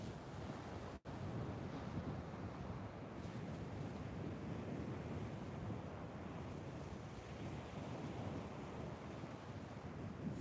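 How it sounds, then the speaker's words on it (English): Ocean waves wash onto the beach at Sam Roi Yot in Thailand, a faint, continuous surf rush blended with wind noise and no voices. "The sound of the waves is beautiful."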